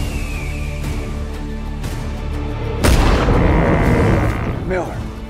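Loud rifle gunshot blast in a 2023 Western film trailer set at a buffalo hunt, a sharp crack near the middle that rolls into a rumbling, echoing tail over tense music.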